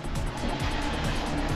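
A KTM Duke 390 motorcycle's stock exhaust rumbles steadily at close range, a dense, throbbing engine note that holds constant for the brief moment with no talk.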